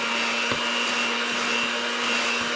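An electric mixer whirs steadily through keto pumpkin bread batter, a continuous close motor drone with a faint tonal whine and no pauses.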